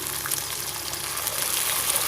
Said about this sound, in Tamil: இப்போ நம்ம டைரெக்டாக இதில் தண்ணி ஆட் பண்ணிக்கலாம்